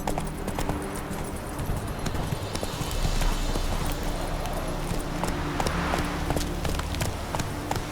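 Horse hooves clip-clopping at a brisk, rhythmic gallop in The Witcher 3, close and continuous with soft ambient background.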